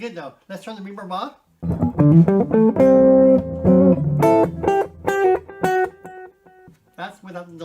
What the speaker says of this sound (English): That's without the delay, or the reverb.